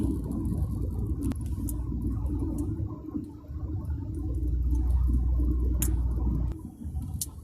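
A car cruising at 80–90 km/h on the AH2 highway near Thung Yai and Chang Klang, Nakhon Si Thammarat, southern Thailand, with rubber plantations on both sides; steady low road rumble and tyre noise throughout, with a brief drop near the end.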